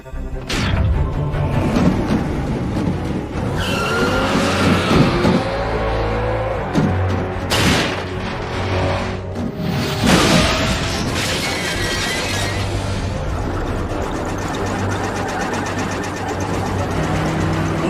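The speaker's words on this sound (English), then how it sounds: "Bumblebee, where's your famous horsepower, huh? Show me some speed" A car chase in an animated Transformers Prime episode: engines roar and rev at speed, with crashes, smashing metal and shattering impacts breaking through the continuous loud motor noise.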